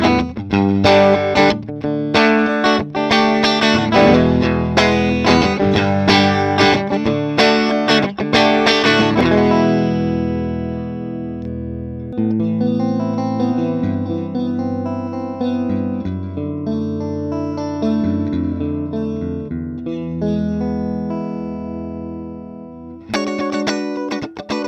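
Electric guitar through a Lombardi LC8 amplifier plays busy, strummed chords up front, then lets sustained notes ring out more softly with chorus and reverb, ending with a brief burst of strumming.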